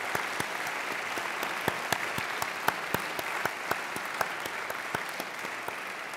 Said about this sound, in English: please give them a mighty round of applause